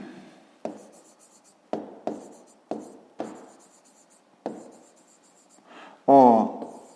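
A pen scratches across paper in short separate bursts, about seven strokes with quiet pauses between them, close and clear during a maths exercise, followed by a louder rustle at the end.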